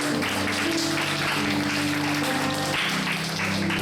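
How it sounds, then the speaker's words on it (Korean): Congregation applause at a Korean church youth worship service, a dense, steady wash of clapping lasting throughout with a low sustained musical tone underneath. "격려의 박수 보내겠습니다"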